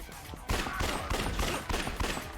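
Gunfire from shooting zombies in the video game Yakuza: Dead Souls comes as rapid, loud bursts of shots in a dense, repeated barrage with short gaps between volleys.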